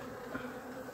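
Honeybees buzzing steadily at a hive being merged with another queenless colony, a continuous close insect drone with no voices.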